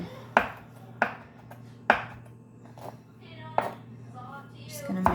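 A knife chops herbs, white onion and green onions on a board for an herbal meatloaf, giving about six sharp, evenly spaced cuts, close and clear, with a faint voice near the end.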